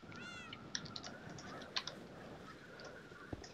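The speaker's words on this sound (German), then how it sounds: "Wo ist deine Katze?" A faint, short meow from a cat in Minecraft plays among quiet game clicks and tapping, low in level and alone without talk.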